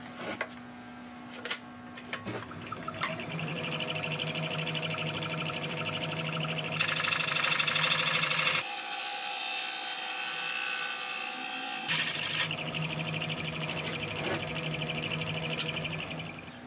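A steady machine whine with a high-pitched scraping hiss from a wood lathe making final cutting passes on a bowl's end grain; the tone shifts partway, then settles back, with no voices.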